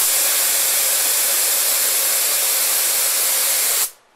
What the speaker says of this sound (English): Spray it long enough that you know it's going to drip